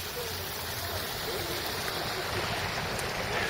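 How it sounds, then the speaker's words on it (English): Hot spring water running down outdoors, a soft steady rushing and trickling wash, faint and continuous with no clear voices. "here's just an example of the actual hot springs. And then it just runs down."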